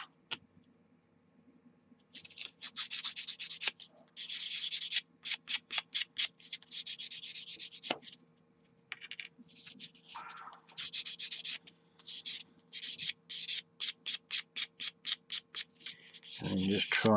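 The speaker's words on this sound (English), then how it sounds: "I'm sanding, trying to sand around the wheel, so I don't want a flat spot on the wheel." A plastic Meng WWToons Tiger model tank wheel is sanded to remove molding lugs, giving close, steady rubbing strokes that break into quick rhythmic bursts of scratchy friction, with no voices.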